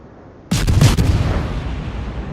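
Naval guns fire in the warship game World of Warships, a loud, close boom that cracks in sharply and rolls into a long rumbling decay, heard on its own.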